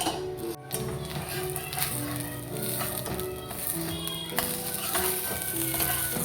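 Ghee sizzling on an aloo kulcha in a pan, a steady frying hiss with tapping and scraping as it is spread, alongside a low background hum.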